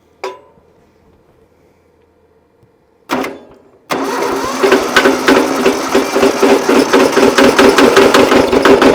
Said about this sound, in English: the thunking you're hearing is actually the pulley up front. It's not the engine knocking.